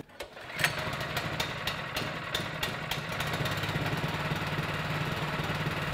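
The petrol engine of a 20 tonne log splitter catches after a pull and settles into a steady, close, buzzing idle that runs unbroken, with a few clicks early on.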